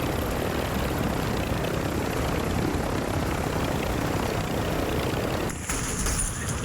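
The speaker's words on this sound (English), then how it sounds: "I was using the heli as cover while trying to gain info" Helicopter in the Call of Duty DMZ video game, a continuous rotor and engine drone holding steady at close range, with a brief dip near the end.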